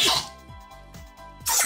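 A person sneezes up close, a sharp burst at the start and another at the end, with short breathy sounds between them.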